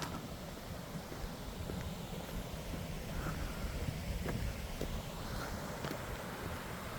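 Water flowing at a natural recreation forest campsite in winter: a steady, even broadband rush that holds at a constant level for the whole stretch, with no voices over it.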